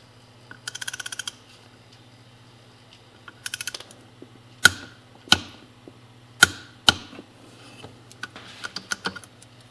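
A torque wrench tightens the clutch nut on a Yamaha YL1 motorcycle, giving bursts of rapid ratcheting clicks followed by several sharp, loud clicks and scattered softer metallic taps in a quiet workshop.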